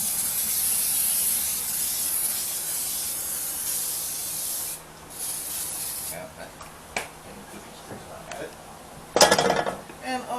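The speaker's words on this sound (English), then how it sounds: "And say we want to hit this with a little cooking spray." A long, steady hiss of cooking spray into a pan, then quieter clinks and scrapes of the pan, ending with a few sharp metallic knocks.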